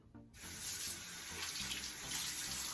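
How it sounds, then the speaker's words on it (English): A tap turns on after a brief quiet moment and water runs steadily into a sink to wet a sponge, close and continuous. "We are gonna wet our sponge."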